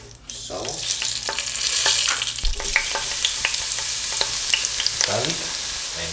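Oil sizzles and crackles in a hot pan before ginger and bell peppers go in, a steady bright hiss with scattered sharp pops and occasional scraping, no talking.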